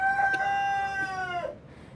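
A Polish bantam rooster lets out one loud, close crow lasting over a second, trailing off into quiet barnyard background among young bantam hens.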